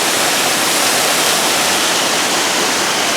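A waterfall at Henry Doorly Zoo and Aquarium in Omaha, Nebraska roars loud and close in a dense, unbroken broadband rush of falling water, with no voices.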